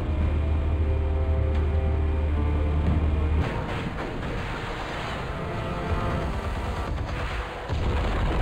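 Armed explosives detonate in Batman: The Telltale Series, a heavy rumbling blast followed by crashing, rolling debris and booming noise that fills the scene, with no voices.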